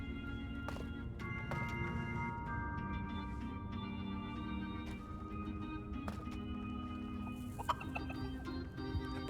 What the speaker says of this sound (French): avait construit un élevage de dindons